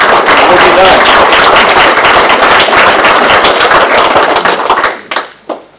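An audience at a local mill heritage talk bursts into loud, dense applause that holds steady for around five seconds, then dies away into a few final claps.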